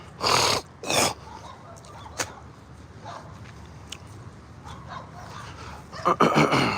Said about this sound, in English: All I hear is dogs barking back there.